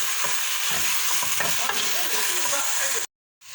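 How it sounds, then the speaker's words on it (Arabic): Chicken pieces frying in a pan for kabsa sizzle loudly and steadily while a utensil stirs and turns them with soft scrapes, then the sound cuts out abruptly. "راح أقلبهم تقريبا، أقلب بيهم لحد ما يتغير لون الدجاج"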